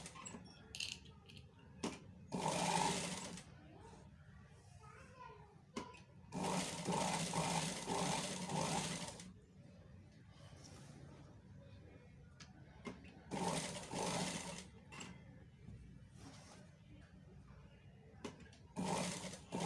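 A sewing machine stitches through a buckram collar for a simple cut neckline, its needle whirring in several loud bursts with quieter pauses between, close to the microphone.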